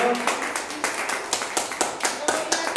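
A church congregation claps hands together in a steady, even rhythm, each clap distinct, with a voice speaking over the clapping.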